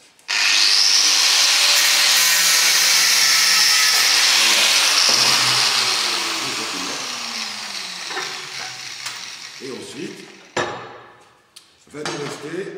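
Screw heads being cut off during a bar build from salvaged materials: a loud, shrill cutting whine holds for several seconds, then winds down, followed by a few sharp metallic clanks and scrapes.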